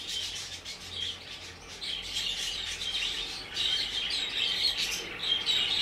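Pet birds in a backyard aviary chirping in the late afternoon around feeding time, a continuous chorus of high tweets at moderate distance with no speech.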